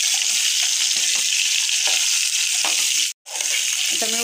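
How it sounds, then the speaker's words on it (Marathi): Eggplant pieces sauté in hot ghee with a loud, steady, close hiss of frying, stirred with occasional scraping, and one brief break in the sound. "सर्व वांगी तुपात घालून झालेली आहेत। आता मी ती परतवते।"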